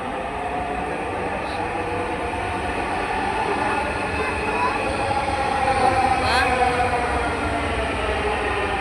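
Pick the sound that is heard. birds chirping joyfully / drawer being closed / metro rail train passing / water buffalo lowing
metro rail train passing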